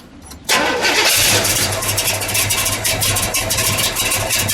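A 1970 Buick GS 455 Stage 1 V8 engine cranks and fires up, roaring loudly into a steady rumbling idle.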